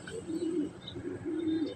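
A racing pigeon coos close by in two soft, throaty bursts, each a low rolling murmur lasting about half a second, with a brief pause between them.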